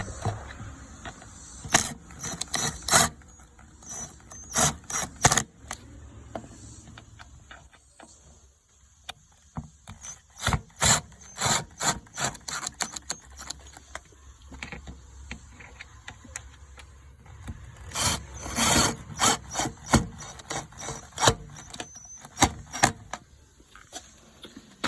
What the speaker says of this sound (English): just gonna put all these screws in and snug them down